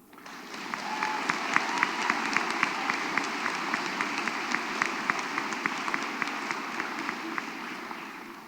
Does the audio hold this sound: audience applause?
yes